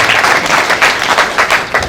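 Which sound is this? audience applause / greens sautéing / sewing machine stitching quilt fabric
audience applause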